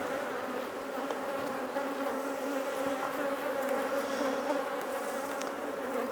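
Dense, steady buzzing of many honey bees swarming around an open poly hive box during a frame inspection, a continuous close drone with no voices over it.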